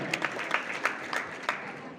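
A short burst of scattered audience clapping at a college gathering, several sharp claps at uneven intervals, moderately close, with a faint murmur of voices underneath.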